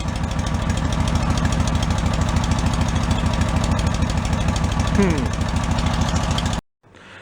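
A Cushman meter maid runs on a custom exhaust, its small engine idling with a steady, rapid pulsing chug for several seconds. The sound cuts off abruptly near the end.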